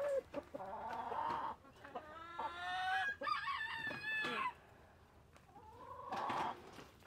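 A flock of chickens clucks and a rooster crows in a long, drawn-out call, several bursts of bird calls close by, with pauses between them.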